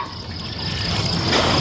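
Water pours steadily onto newly planted Hungarian Hot Wax pepper plants in a vegetable garden, a close, brief hissing trickle that grows slightly louder toward the end.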